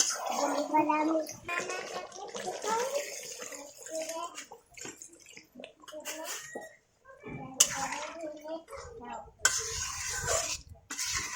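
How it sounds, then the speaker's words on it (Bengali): Water poured into a cooking pan of chicken being braised, with a splashing gurgle and sizzle, alternating with a person talking nearby and light clinks of utensils. "এবার দিয়ে দিব পানি, পরিমাণ মতো পানি দিয়ে দিব।"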